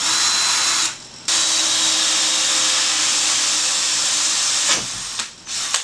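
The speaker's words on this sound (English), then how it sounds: "So, without further ado, let me get to drilling." A power drill whirs loudly and steadily while drilling a refugium LED light fixture, briefly stopping near the start, then running again before winding down in short spurts at the end.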